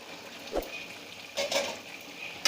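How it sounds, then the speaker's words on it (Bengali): Chopped tomatoes go into a pot of half-boiled country chicken for a potato curry, bringing a low simmering sizzle with a few soft clinks and stirring scrapes from a utensil against the pot. "এবার আমি দিয়ে দিচ্ছি আগে থেকে কেটে রাখা টমেটো কুচি।"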